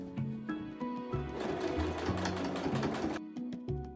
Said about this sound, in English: I just sew all the way around.